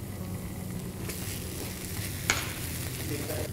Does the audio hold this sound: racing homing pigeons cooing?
no